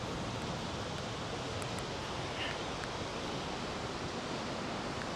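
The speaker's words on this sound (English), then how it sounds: "an awesome waterfall." Waterfall near Juneau, Alaska: a steady, broad rushing roar of heavy falling water, close and unbroken, with no voices.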